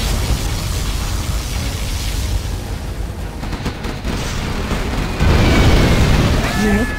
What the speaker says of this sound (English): Warning, a Scud storm has been detected.